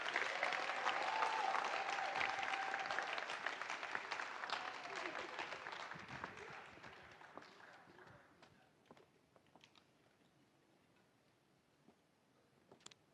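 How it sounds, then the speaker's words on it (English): An audience at a philanthropy conference opening ceremony claps in a full, steady wave that slowly thins out and fades over several seconds, with a few scattered claps at the end. "Let's give her a big round of applause."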